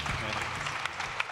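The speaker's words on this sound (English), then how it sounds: "Please, another applause for Andreas." Audience applause at a startup pitch day event, a steady wash of clapping from a seated crowd lasting the whole moment with a couple of louder individual claps near the end.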